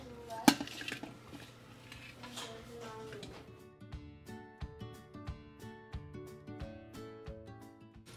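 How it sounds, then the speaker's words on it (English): Butter melting in a pan for caramel popcorn is stirred with a utensil, giving a close, rhythmic series of metallic scrapes and taps against the pan after an initial sharp clank, with a voice talking at moments. "You can stir that to make it melt if you want."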